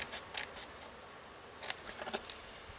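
Quiet snipping of scissors through thin card, a few short crisp cuts in an otherwise still room.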